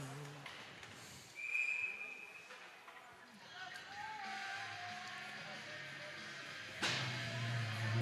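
A referee's whistle gives one short, shrill blast during an ice hockey game between Kennett and Oxford, over the arena hum while a commentator talks.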